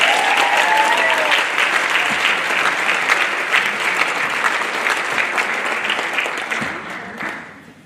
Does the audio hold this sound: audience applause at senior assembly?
yes